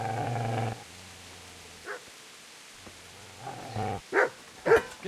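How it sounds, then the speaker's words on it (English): A dog in the medieval game Kingdom Come: Deliverance growls low and steadily, then breaks into several sharp, close barks toward the end. "Get away, you mutt!"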